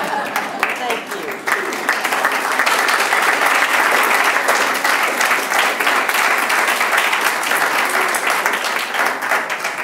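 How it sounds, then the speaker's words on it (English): Sustained audience applause at a book award ceremony, dense and loud for the whole stretch, with voices mixed into the clapping. "Please join me in giving one more round of applause to all of our, both of our award recipients."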